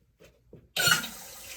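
Household toilet tank refilling through a newly fitted fill valve after the supply water is turned back on, a sudden steady hiss and rush of water that starts after a few soft handling knocks and keeps running.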